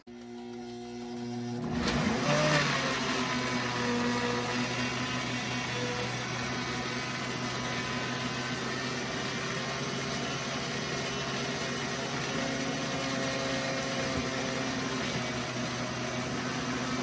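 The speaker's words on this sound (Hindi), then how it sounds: "इसको मैं पुश पुश करके इनको ब्लेंड कर रही हूँ।" A loud, steady motor whine starts abruptly and runs continuously, a kitchen blender grinding mango chutney at constant speed close by.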